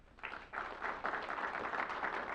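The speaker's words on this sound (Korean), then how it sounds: "박수 한번 주세요." Applause from a church congregation during a Wednesday evening service, a steady wash of clapping hands that rises and holds for a couple of seconds in a reverberant room.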